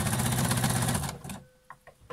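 An overlock serger runs a zigzag seam around pyjama-holder fabric, a loud, dense mechanical whir for about a second before it cuts out, followed by a few faint clicks.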